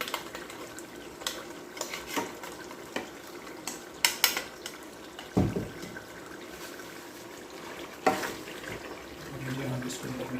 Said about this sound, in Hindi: ये हम इसके अंदर मिला देते हैं